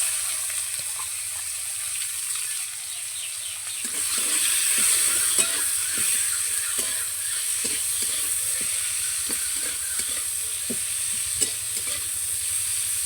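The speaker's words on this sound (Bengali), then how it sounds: "পেঁয়াজগুলো ভালো করে লাল লাল করে ভেজে নেব।" Chopped onions frying in hot oil with whole cumin and a bay leaf, a steady close sizzle running throughout, with a regular scrape and clack of a spatula stirring in the pan from about four seconds on.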